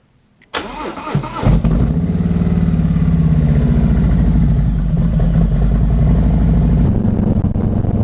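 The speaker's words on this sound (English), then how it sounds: "We're gonna start the bike, get it warmed up, throw some gear on, and let's go for a ride." A Harley-Davidson Road Glide motorcycle engine cranks and fires after a brief pause, then settles into a loud, steady, close-up idle as it warms up.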